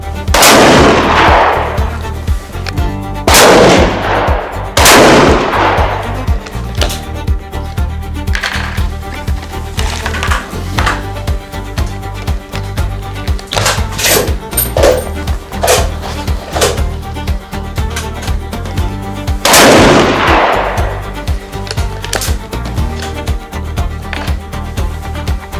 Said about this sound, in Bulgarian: Сега ще пробваме и гладката цев, боеприпас на Hornady SST.